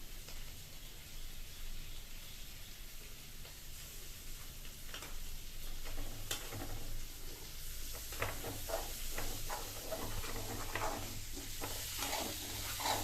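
Potatoes roasting in a pan give a soft, steady sizzle with a few scattered scraping and clinking stirs in the second half, fairly faint and close, no speech.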